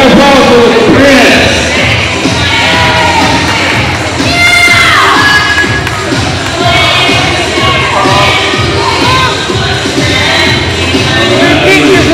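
A loud prom crowd at a junior prom cheers and shouts for the prom prince, with whoops, yells and a busy wash of claps and chatter, people talking over the din.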